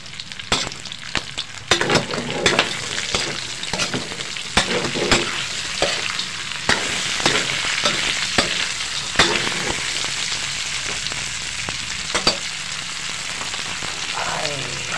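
Tofu and pork stir-fry in a pan with a loud, continuous sizzle. Frequent sharp scrapes and clacks of a spatula against the pan punctuate the frying.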